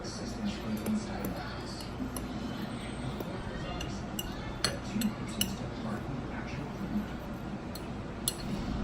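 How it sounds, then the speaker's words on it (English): A fork stirs dry keto chocolate cake ingredients, including sweetener, in a bowl, producing light, irregular clinks and scrapes at close range over a low steady background. "I'm going to grab a fork and I'm just going to mix it all in together."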